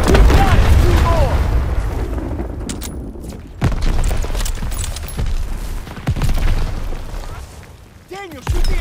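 Ammo caches blow up under gunfire in Call of Duty WWII, loud booms and bursts over dense battle noise and gunfire, with shouted voices throughout.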